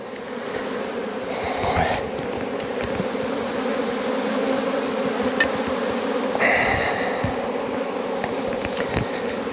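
Bees buzz steadily around an open beehive as a deep box is set back onto the stack, a close, continuous drone with a few brief louder passes near the listener.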